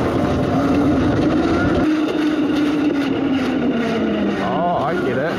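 A DIY electric Big Wheel trike rolls along in heavy regenerative braking, giving a steady whining drone with a falling pitch and strong road and wind rumble throughout, loud and close.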